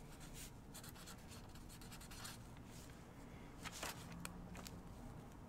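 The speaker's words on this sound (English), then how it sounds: "you're going to write your name" A pen scratches across paper as a name is written, giving faint, close, irregular strokes and scribbles over a quiet background.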